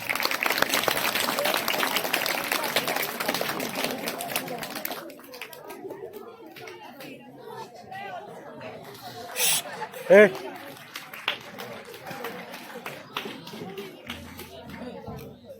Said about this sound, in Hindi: कृपया जोरदार तालियों के साथ इनका स्वागत किया जाए।